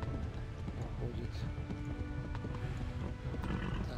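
Steady galloping hoofbeats of a horse in the video game Kingdom Come: Deliverance thud continuously at close range, with a voice talking over them and busy background noise.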